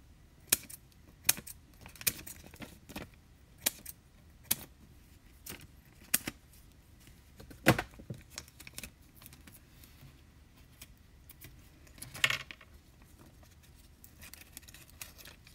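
Paper card pieces for a Stampin' Up strawberry card being cut, giving a scattered run of sharp snips and small clicks over a quiet room, with a louder rustle near the end and no talking.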